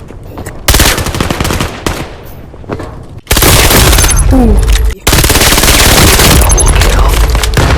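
An APC9 Pro submachine gun fires in the VR shooter Vail VR: loud, rapid automatic bursts with long sustained strings of shots and brief pauses, close and dominant, with a short vocal exclamation.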